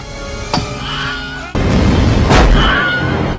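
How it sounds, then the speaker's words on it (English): The Wilhelm scream, the famous Hollywood stock sound effect, rings out as a sharp, shrill yell that cuts briefly through a steady background, followed by a second louder cry over a noisier bed. "It's a movie trope called the Wilhelm scream."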